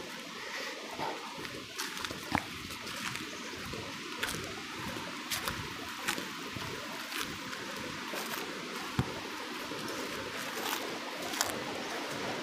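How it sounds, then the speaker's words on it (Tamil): Faint, steady rush of flowing river water, continuous throughout, with a few small clicks and splashes. "இப்போ ஆறில் தண்ணி போகிற சவுண்டு உங்களுக்கு நல்லா கிளியராகவே கேட்க நினைக்கிறேங்க"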